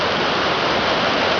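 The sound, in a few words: Jordan River water gushing after rain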